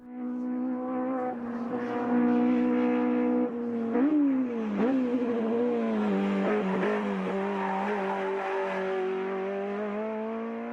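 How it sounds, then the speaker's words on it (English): A Toyota AE86 Corolla engine at open throttle howls loudly, holding a steady high note, then shifting and sweeping up and down in pitch as the car approaches and drives past, with no voices. "The sound of open throttles as it approaches, and the echo of 1 million bees as it drives by."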